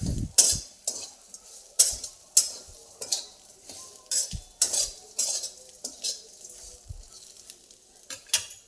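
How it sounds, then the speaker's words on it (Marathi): Soybean fry with onion-garlic masala is stirred in a pan, a spoon knocking and scraping the metal in irregular clattering strokes over a faint sizzle, close and intermittent, with no voices. "परत हे असं हलवायचं."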